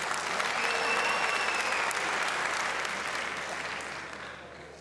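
Applause from a television talent-show audience for a stand-up comedian, a full, steady roar of clapping that holds strong for several seconds and then gradually fades, with no voices on top.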